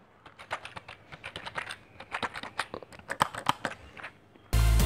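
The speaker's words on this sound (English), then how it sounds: "So it's a chiclet based keyboard." Typing on an HP Wireless Keyboard 200, a thin budget chiclet keyboard, produces a rapid irregular run of light clicky keystrokes, close and clear, ending in a brief loud bump.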